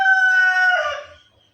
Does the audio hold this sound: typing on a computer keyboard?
no